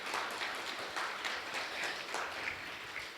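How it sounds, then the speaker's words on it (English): Audience applause rolls on at a farewell tribute for a retiring college chancellor, a steady, moderately distant patter of many hands with no break. "So I want to give you a round of applause."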